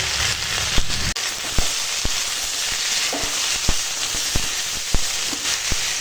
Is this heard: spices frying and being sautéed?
yes